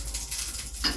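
Oil sizzles under a chapati frying on a hot pan, a steady close hiss with a brief scrape of the pan near the end.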